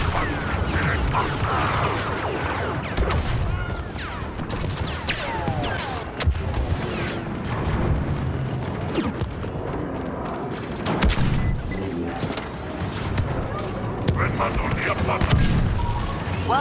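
Blaster and artillery fire fill a Star Wars Battlefront 2 Galactic Assault battle on Crait: a continuous roar of booms, shots and explosions, steady and loud throughout, with radio voices calling out orders.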